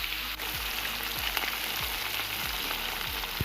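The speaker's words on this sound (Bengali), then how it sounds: "মাছগুলো ছাড়া হলে তেলে ভাজা হবে।" Fish pieces sizzle in hot oil in a wok, a dense, continuous frying hiss with soft periodic thumps, close and steady, with no voices.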